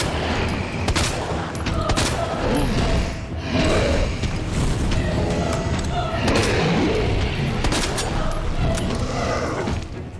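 Rapid bursts of gunfire from the Resident Evil 2 video game, in the finale of Leon's second scenario, crack out repeatedly over a dense, busy game soundscape, loud and close throughout.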